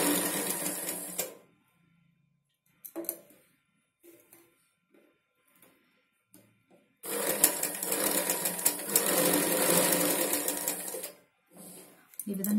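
A sewing machine stitches along a saree edge in bursts of fast, even mechanical whirring, with quiet pauses between runs and a voice speaking at times.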